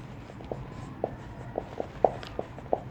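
Chalk or marker writing on a board in a classroom-style lesson, with a series of short, sharp taps and strokes spaced irregularly over a quiet background, fairly close.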